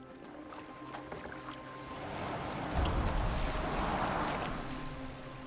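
Boat moving across water in Assassin's Creed Valhalla, a continuous wash of splashing and rushing water that swells louder midway and holds steady, with no voices.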